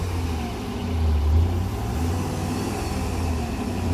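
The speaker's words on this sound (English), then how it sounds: "you can really tell it has a nice V8 rumble" A Jeep Grand Cherokee's 4.7 V8 with twin tip exhaust rumbles loud and close, a steady deep engine drone that swells slightly as the throttle is pressed.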